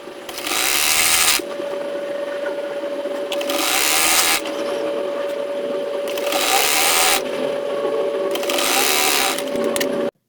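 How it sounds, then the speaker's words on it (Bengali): A sewing machine stitches a folded strip of fabric for a hijab mask belt, running in steady whirring bursts of a couple of seconds each, loud and close, with brief quieter gaps between runs. "মুখোশের বেল্টের কাপড় 1 ভাঁজ করে সেলাই করে নেব।"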